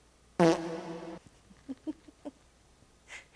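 A single loud, buzzy fart lasting about a second, followed by a few faint scattered pops and a soft trailing noise.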